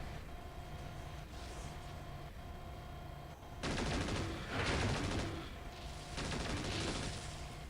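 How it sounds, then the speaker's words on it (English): Missile and weapons fire in the MechWarrior 4: Mercenaries video game: a steady mechanical hum gives way to loud, dense bursts of rapid fire that come in two waves. "I'm going to switch over to the missiles and fire."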